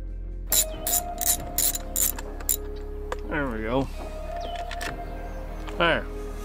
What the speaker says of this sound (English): so I'm gonna go ahead and get that bolt off.